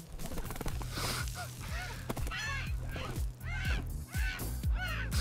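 A bird caws repeatedly in an AI-generated Lego animation where it swoops in to steal a sausage, with about half a dozen harsh calls over a steady background hum.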